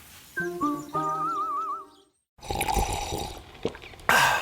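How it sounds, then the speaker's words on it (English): Coffee pours and gurgles into a cup in a short burst, followed after a brief pause by noisy sloshing and splashing up close. "That's not just the sound of that first sip of Morning Joe."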